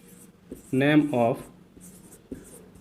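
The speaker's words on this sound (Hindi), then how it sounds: "डेफिनेशन पहले लिख लेते हैं" Chalk or marker scrapes across a classroom board in two quick strokes, close and fairly loud, with a few soft taps around them and no voice heard.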